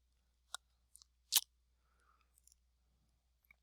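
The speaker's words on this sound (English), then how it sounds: "So I'm going to double click on that." A computer mouse double click in a quiet room, a few short sharp clicks spaced closely together, with faint light tapping noises after them.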